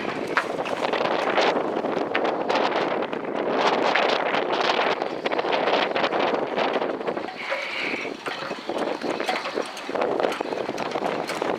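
Wind gusts steadily across the microphone at a sailing regatta in Puck, a loud, continuous broadband rush that swells and eases throughout, with no clear voices.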